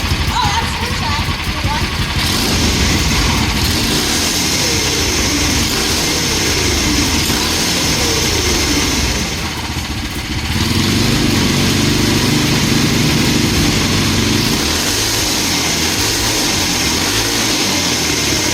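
A Tillotson 225 two-stroke kart engine fitted with an expansion pipe starts and then runs loud and close, revving raggedly up and down while people talk over it.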